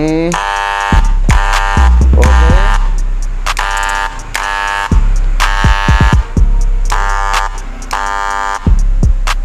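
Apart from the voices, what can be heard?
faulty hair clipper loud buzzing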